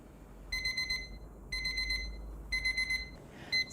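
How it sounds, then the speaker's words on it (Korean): An electronic kitchen timer beeps in rapid bursts, about one burst per second, with short pauses between groups, fairly close and clear, while ramen cooks. "타이머가 울리면 꼭 불을 꺼주세요"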